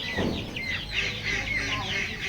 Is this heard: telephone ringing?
no